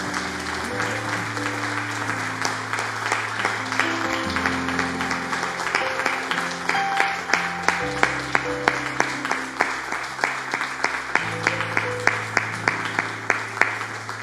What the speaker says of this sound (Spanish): Denle un aplauso al Señor, mi hermano y mi hermana.